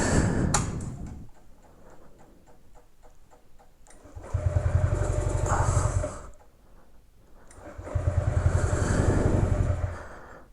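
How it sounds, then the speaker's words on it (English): Honda Ruckus scooter cold start: the starter motor clicks and churns, then the small engine catches and idles twice in rough, uneven bursts, close by with no talking. "Cold start."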